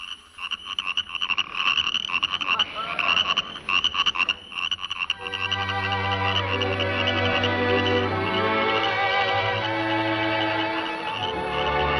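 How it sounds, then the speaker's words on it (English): A dense chorus of croaking frogs and chirping crickets, steady and loud, with overlapping rhythmic calls filling the whole stretch. "hearing some good old frogs and crickets"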